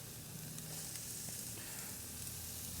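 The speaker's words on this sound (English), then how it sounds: "now I'm gonna add in the carrots" Carrots and garlic sauté in a hot pan, a soft continuous hiss and sizzle that stays even and faint across the clip, with no voices.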